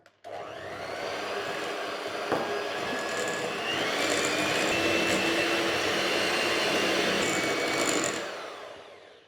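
Electric hand mixer whirring steadily at close range as butter and sugar are creamed and an egg is added, a continuous motor drone lasting about eight seconds with a slight rise in pitch partway through.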